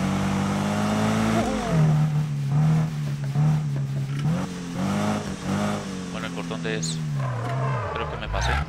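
Subaru engine revving in the racing video game Need For Speed 2015, a steady droning motor that rises and falls in pitch through gear shifts, with a voice talking over it.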